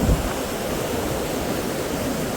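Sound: rushing river water under bridge

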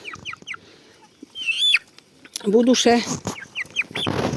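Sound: chicks cheeping

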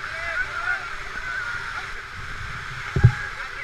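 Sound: paddling a raft on a river

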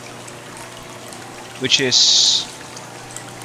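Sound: water overflowing through a 2-inch pipe into a fish tank

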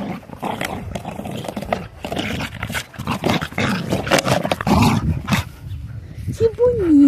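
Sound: small dog excited, playing with a crushed can

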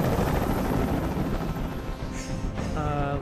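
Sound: helicopter hovering in video game Detroit: Become Human

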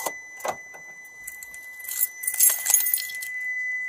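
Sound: car keys jangling as they are handed over

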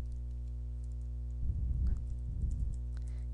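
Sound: typing on a computer keyboard

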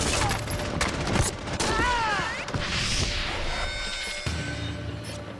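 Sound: gunfire in shootout between police and terrorists at airfield

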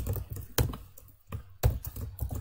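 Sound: typing code on a computer keyboard

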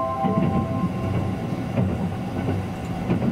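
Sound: Sunrise Izumo sleeper express train running

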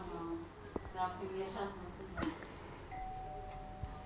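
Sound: doorbell ringing

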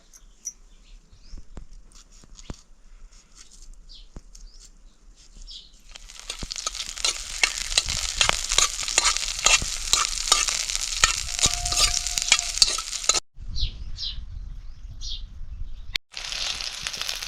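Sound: halved green chillies frying in oil

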